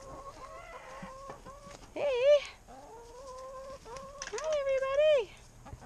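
Backyard chickens cluck and call near a bedding of hay, a few louder drawn-out squawks rising over steady chatter, with a person talking briefly among them.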